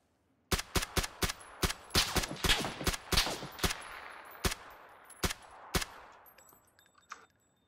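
Rapid bursts of gunfire in the PUBG battle royale game ring out loud and close, a dozen or so sharp shots in quick irregular volleys that thin out toward the end, with no talk over them.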